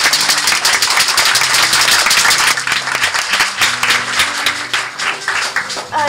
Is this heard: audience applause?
yes